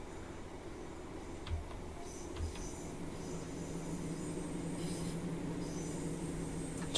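A simulated train rolls along the Midland Mainline in Train Simulator, a steady rumble of wheels on rails with a few soft low knocks and faint high squeals near the start, then a slightly louder continuous run.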